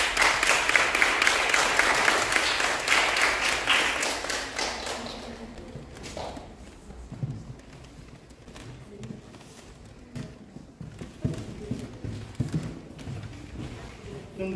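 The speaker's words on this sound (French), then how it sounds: "mais on peut également les applaudir." Audience applause at a carbon-footprint project event in France, dense at first, then fading into scattered claps, thumps and light room noise.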